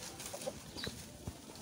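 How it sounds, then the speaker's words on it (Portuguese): A large farmyard rooster clucks softly a few times in short, scattered calls over quiet outdoor background noise, with no talking. "Isso aqui é um senhor galo"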